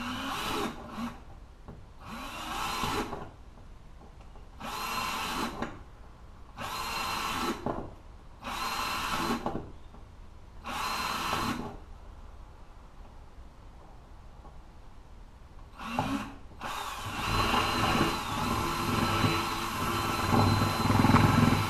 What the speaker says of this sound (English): I'm going to use a drill. Probably going to poke a couple holes in there